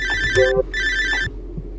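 A telephone rings in the Fear of Fear video game, two electronic trills in a row, loud and close, then a short hum continues; no voices.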